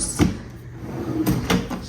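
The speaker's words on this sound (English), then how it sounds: "Ooh, the quiet close drawers." Soft-close drawer in a hotel suite sliding shut, giving a few soft muffled thuds and light rubbing sounds, fairly close, with no speech over it.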